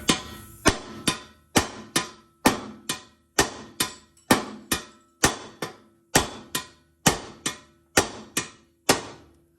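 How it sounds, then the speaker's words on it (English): Steady hammer blows on the knuckle of a 2001–2005 Lexus IS300 to pop a ball joint loose during a coilover install, roughly twenty sharp metallic strikes at an even pace, each ringing briefly, close and loud. "I like just hammering this and it'll pop off."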